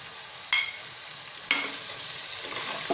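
Chicken fry is stirred with chili powder in a hot pan: a faint, low sizzle runs throughout, broken by two sharp spatula scrapes about a second apart.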